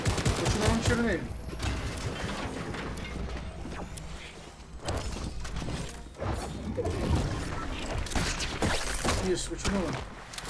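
Gunfire in a Fortnite match, bursts of rapid shots and mechanical clatter that come and go over several seconds, with players talking throughout.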